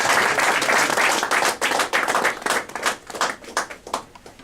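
Audience applause welcoming the incoming president at a Toastmasters installation ceremony, loud dense clapping from a close crowd that gradually thins into scattered, uneven claps toward the end.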